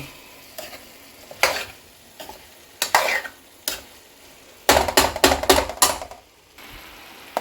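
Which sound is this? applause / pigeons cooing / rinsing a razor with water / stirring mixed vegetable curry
stirring mixed vegetable curry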